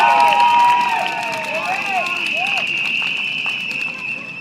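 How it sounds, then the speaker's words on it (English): A large outdoor election rally crowd at Tampines cheers and whistles loudly at first, with shouts rising and the noise fading to a steady murmur. "Let's give ourselves a big round of applause."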